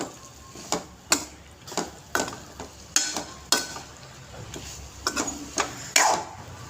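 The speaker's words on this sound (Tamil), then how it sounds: "துருவிய தேங்காய் போட்டு பீன்ஸ் இது கிண்டி விடுறோம்" A spoon or spatula taps and scrapes a pan in an uneven rhythm while beans poriyal with grated coconut is stirred, with a dozen sharp clacks over a soft background sizzle and no voices.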